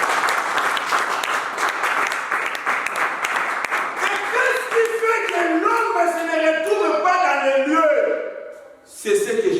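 A church congregation bursts into loud, sustained applause with clapping and shouting from the crowd, while a preacher's amplified voice carries over it throughout.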